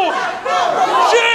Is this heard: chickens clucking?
no